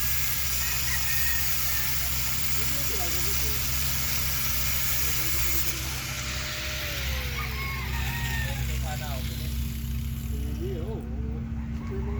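Two engines idle steadily on a tilted bangka, a Filipino outrigger boat, giving a continuous low mechanical hum throughout while people talk over it and occasional metallic clinks sound nearby.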